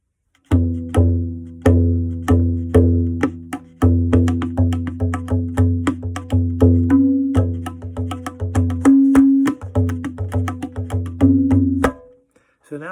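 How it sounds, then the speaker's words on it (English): Tabla played with the da stroke, which combines the ge bass stroke and the na treble stroke. Steady repeated resonant hits ring out alone with a clear pitch, close and fairly loud. "if I use the ge and I use the na sound, that sound is called da."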